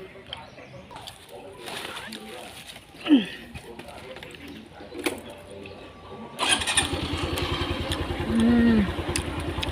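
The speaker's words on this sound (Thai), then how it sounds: "ไปด้วย มอไซคันนี้แหละ" A motorcycle engine starts up, then revs and runs steadily as the rider pulls away, with a brief bird call and traffic noise nearby.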